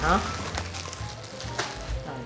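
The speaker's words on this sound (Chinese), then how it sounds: "我炸两3片给你们看" Thin carrot slices fry in hot oil, giving a close, steady bubbling sizzle with occasional louder crackles. A voice briefly sounds at the start.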